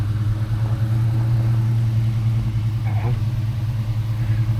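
A big block square-body Chevrolet Suburban engine idles while warming up in cold, salty conditions, a steady close low rumble with a faint voice briefly over it.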